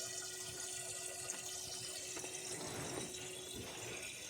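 Water splashing steadily from a hand pump fitted to a heavy 25-litre container, a continuous close-up gush with a faint steady hum behind it and no talking.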